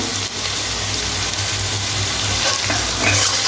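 Soybean curry with ground coriander, turmeric and salt being stirred and fried in a pan, a loud, continuous close sizzle with scraping stirring noises running through it, no voices.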